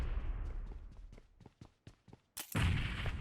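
A series of sharp gunshots or blasts in PUBG Mobile, then a sudden loud explosion burst that rumbles on near the end.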